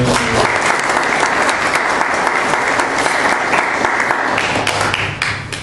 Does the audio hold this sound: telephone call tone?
no